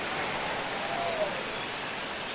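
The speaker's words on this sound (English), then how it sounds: "This rain is not letting up." Heavy rain pouring over a baseball stadium during a game, a dense, even hiss of falling water that holds steady throughout.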